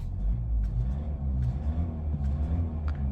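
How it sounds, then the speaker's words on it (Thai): A Ford Next-Gen Wildtrak 2.0 bi-turbo 4x4 engine rumbles close and steady with a deep low drone, its revs lifting slightly with no voices over it. "วัดรอบ นะเดี๋ยวผมเร่งให้ดู"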